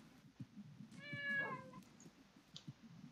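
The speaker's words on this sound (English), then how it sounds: "Did I lose my cat? I lost my cat." A cat meows once in the crafting game Can't Stop Crafting, a single rising then falling call, fairly faint over a busy low game soundscape of soft thuds and clicks.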